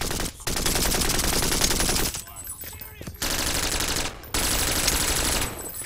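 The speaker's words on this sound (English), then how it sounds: "Personally, I really like the silencer sounds." Suppressed weapons fire in the shooter game BRINK, dense runs of muffled automatic shots in long continuous bursts broken by a few short pauses, loud and close.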